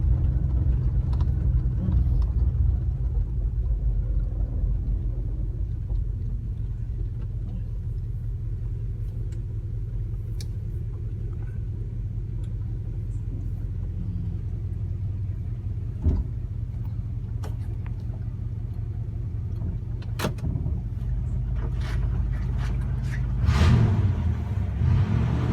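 A 1961 Plymouth Fury engine on a test drive, a steady low rumble and drone held throughout, with a brief surge of revving near the end and faint clicks and bumps from the cabin.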